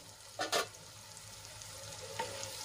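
Onion and tomato cooking in a pan for an Indian-style gravy, giving a soft, steady sizzle with a couple of brief louder scrapes of stirring near the start and a faint clink later.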